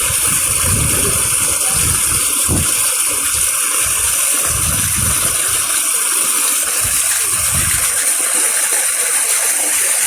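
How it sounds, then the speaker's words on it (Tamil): Two kilograms of basmati rice being washed in water: a running gush and swirl of water over grains, with intermittent low sloshing pulses under a steady high hiss, close and fairly loud for ten seconds. "பாஸ்மதி அரிசி ரெண்டு கிலோ இப்போ தண்ணியில் கழுவிக்கலாம்"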